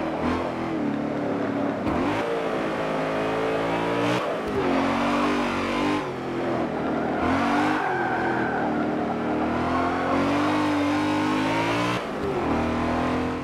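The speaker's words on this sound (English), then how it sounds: "Spin some tires." A BMW M3 in Forza Motorsport 7 spins its tires, the engine revving hard and repeatedly rising and dropping in pitch over a continuous roar, loud and close with no talk.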